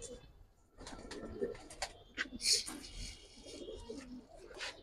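Old-line Jabra pigeons cooing in a loft, soft low coos repeating under scattered chirps, clicks and a brief flutter, with faint voices nearby in the background.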